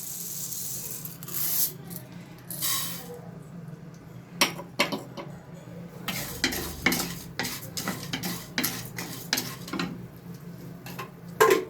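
Urad dal stirred and dry-roasted in a pan, with repeated scraping and clinking spoon strokes against the metal in an irregular rhythm over a faint sizzle.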